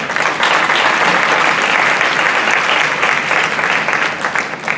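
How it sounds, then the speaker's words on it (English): A sustained round of applause from the audience for the panelists at a roundtable on decolonizing the urban, loud and steady throughout, with many hands clapping together in a dense wash of sound. "who I think deserve another round of applause"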